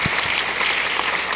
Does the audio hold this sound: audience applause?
yes